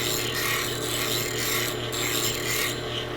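A hand plane blade grinds against a grinding wheel, giving a continuous, steady rasping hiss that runs unbroken for the whole stretch with no speech.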